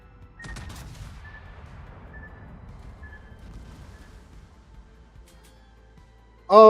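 Warship naval guns fire shells in the video game World of Warships, a muffled boom followed by a long low rumbling tail, ending in a sudden loud burst.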